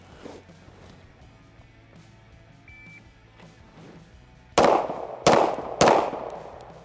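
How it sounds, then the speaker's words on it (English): Three sharp, loud gunshots from an Oracle Arms 2311 pistol crack in quick succession at an outdoor range after a few quiet seconds of low background noise. "I'm gonna shoot this now. This is 3 rounds."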